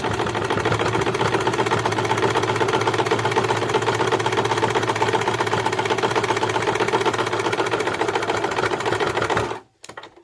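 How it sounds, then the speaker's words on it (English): A sewing machine running reverse stitches on fabric for a beauty pouch: a loud, fast, steady mechanical whirring and clatter that runs without pause, then stops abruptly near the end with a brief click. "Do a few reverse stitches just to secure it at the start."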